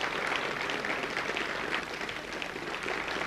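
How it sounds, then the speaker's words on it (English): People in the Jupiter launch control room clap after an Ariane launch carrying SPOT 5. The applause is a soft, diffuse, continuous patter heard at a distance. "And people clapping."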